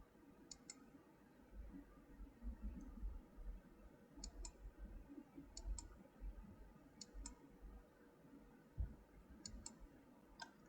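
Computer mouse clicks during digital lineart and fill work, heard as sharp double clicks recurring every second or so, fairly close, over a low background hum with no talking.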